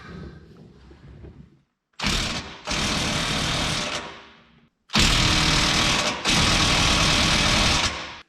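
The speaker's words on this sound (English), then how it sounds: "getting a socket up in there and actually taking those 4 bolts out" A socket wrench removes the large 24 mm transmission bolts on a Ram 3500 HO with an Aisin transmission, heard as loud, close, sustained mechanical whirring in two long bursts, each with a brief break, after a quieter start.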